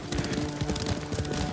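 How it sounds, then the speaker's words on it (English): Horse hooves thud in a fast, rhythmic gallop during riding in the video game Ghost of Tsushima, close and steady with low drumming beats that blend with background game sound. "Quickly, Nobu! You're riding well."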